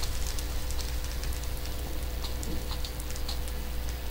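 Steady Minecraft rain hisses evenly throughout, soft scattered droplet patters over a constant wash, fairly quiet and with no one talking.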